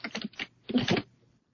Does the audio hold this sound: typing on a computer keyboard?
yes